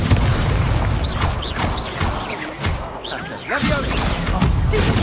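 Expulso spell blast from combat in Hogwarts Legacy: a dense, sustained rumble of booms and crashes with whooshing bursts, loud and busy throughout, mixed with other game effects and possible voices.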